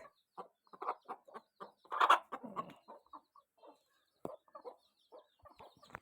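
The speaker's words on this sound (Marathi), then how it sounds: "हे बघा कोंबडीने अंड घातलेला आहे" Hens cluck in short, scattered bursts with one louder squawk, close by in an otherwise quiet setting.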